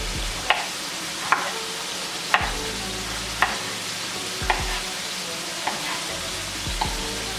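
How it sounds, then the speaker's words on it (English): Hamburger meat browning with onions and garlic in a pan, with a soft continuous sizzle and a regular series of spoon or spatula knocks against the pan about once a second, close and clear with no talking. "when you're browning your hamburger meat like that and you add like your onions and your garlic"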